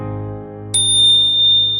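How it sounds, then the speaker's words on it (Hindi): Temple bells ring in the morning light, a bright sustained metallic ding starting partway in and holding steady over a soft background bed before cutting off. "सुबह का उजाला, मंदिर की घंटियां बज रही हैं।"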